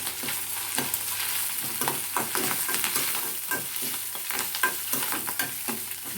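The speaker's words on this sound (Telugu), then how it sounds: "కొంచెం అల్లం తెల్లగడ్డ దంచుకొని వేసుకుంటున్నాం" Crushed ginger and garlic fry in a pan with coarse salt, giving a steady close sizzle broken by repeated scraping stirs of a spoon, with no talking.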